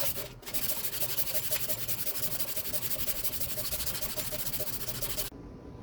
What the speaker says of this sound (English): It's a 220 grit finish, hand sanded finish on the knife.